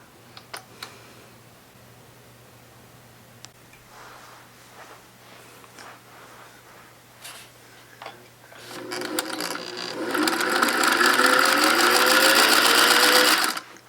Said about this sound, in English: if I turn the wheel backwards until it releases.